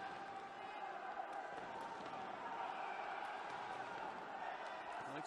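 A boxing crowd at an Olympic bout cheers and roars steadily in a continuous distant wash of noise, with a commentator talking over it.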